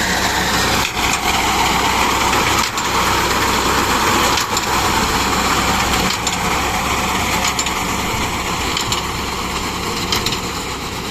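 A Super Shahzad front reaper binder runs on a tractor, giving a loud, steady mechanical engine drone with a constant whirr throughout, no speech.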